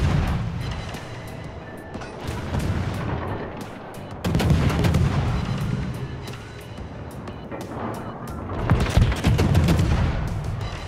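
Naval gunfire in World of Warships from a USS Atlanta light cruiser battle, with repeated booming salvos and crackling shots rolling over a constant low rumble, swelling in loud waves across the whole stretch.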